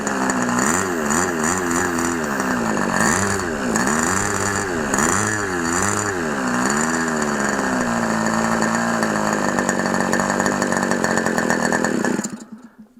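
A small high-revving OS MAX 50 FSR model aircraft glow engine buzzes continuously and loudly, running a little rich during break-in, its pitch wavering up and down before settling steady, then cutting off abruptly at the end.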